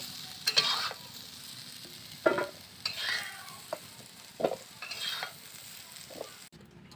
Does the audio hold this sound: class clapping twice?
no